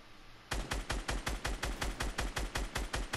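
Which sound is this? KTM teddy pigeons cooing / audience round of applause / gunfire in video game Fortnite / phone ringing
gunfire in video game Fortnite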